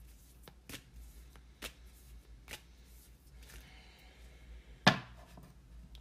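A deck of Earth Magic oracle cards shuffled by hand, soft scattered flicks and taps with one sharp snap near the end, close and quiet in a hushed room.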